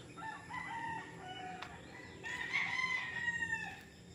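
Roosters crow at a gamefowl farm, a couple of faint crows rising over a murmur of farm background, the second louder and more drawn out.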